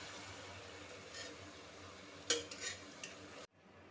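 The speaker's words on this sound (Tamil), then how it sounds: "தக்காளி போட்டாச்சுங்க. இதை நல்லா கிண்டி விட்டுக்கலாங்க." Onions and tomatoes get stirred in a cooking pot over a faint steady sizzle, with a few quiet spoon scrapes and metal clinks near the end before the sound cuts off abruptly; no one talks.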